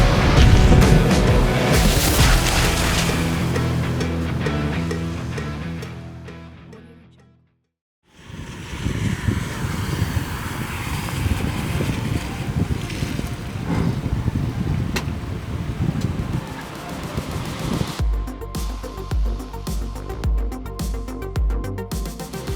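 A 2021 Toyota Hilux Adventure with a 4-liter V6 driven hard across sand, its engine roaring loud and close with rumbling, surging drive noise, a brief drop to near silence midway, then sustained heavy motor sound through the end.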